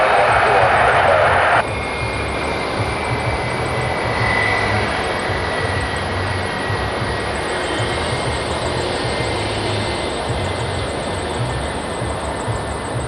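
A jet airliner's engines roar steadily at Toronto Pearson Airport as a plane passes nearby, a loud, broad rumble with a whining high tone that holds for the whole stretch.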